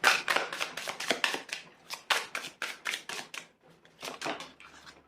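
Tarot cards being shuffled, a quick run of crisp riffling flicks and taps up close, fairly soft, alone without talk.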